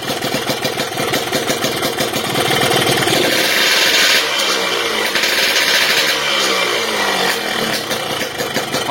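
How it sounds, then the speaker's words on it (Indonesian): Rough, noisy motorcycle engine with a ported cylinder head idling up close, a loud continuous mechanical clatter from the head area with a steady, unbroken drone throughout. "Motor ini suaranya berisik, agak berisik ya. Cuman di sini suaranya di head, di atas lah."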